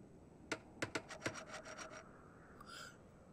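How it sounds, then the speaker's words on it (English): Hammering and sawing effect from the Bravely Second video game: a quick series of sharp rhythmic strikes and rasping strokes, about eight in two seconds, followed by a brief faint chime, fairly quiet and alone. "I heard hammer and a saw"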